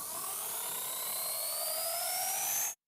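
A homemade helicopter hangs from a wire on a bearing, its rotor driven by a compressed air bottle, and gives off a loud, continuous whirring whine that rises steadily in pitch before cutting off abruptly.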